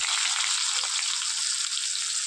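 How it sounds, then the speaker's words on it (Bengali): Chopped onion frying in hot oil with whole-spice tempering for a pointed gourd curry, a steady, bright sizzling hiss that stays even and close with no voices. "খুব সামান্য পেঁয়াজ কুচো"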